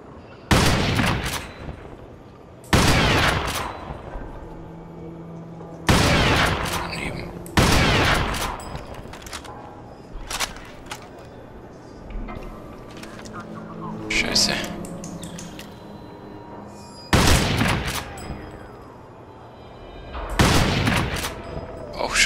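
Gunfire in the shooter game Crysis, with loud broadband shots and short bursts arriving every few seconds over a continuous combat and ambience bed, with some voice in the mix.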